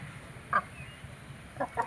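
Hens at a poultry farm give a few brief, fairly faint clucking calls, one short burst followed by two more a second later, over a quiet low background.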